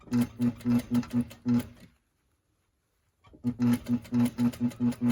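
A sewing machine stitches a shirt collar in rapid pulsing bursts, pauses into near silence for over a second, then resumes the same short rhythmic runs, close and clear without talk.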